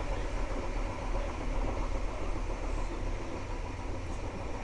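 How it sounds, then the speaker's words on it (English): Inside a moving passenger train passing through countryside, a steady low rumble and broad rolling noise hold evenly throughout, with no talking. "We're on the train."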